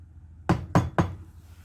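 Kawasaki KZ1100 cylinder block being tapped down onto its dowels, three sharp, hollow metallic knocks in quick even succession, close and alone.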